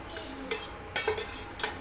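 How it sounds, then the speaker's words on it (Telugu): A kadai (wok) is set down on a stove with a few quick metallic clanks and scrapes, spaced apart against a quiet kitchen background. "స్టవ్ ఆన్ చేసుకొని కడాయి పెట్టుకున్న తర్వాత"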